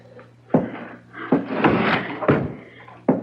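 An interior door being shut in a radio drama scene, heard as several dull thumps and knocks amid rustling movement, sharp impacts recurring at uneven intervals.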